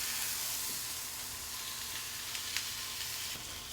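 New York steaks sear in a pan with a soft, continuous sizzle and a few faint clicks as they are turned, fairly quiet and close.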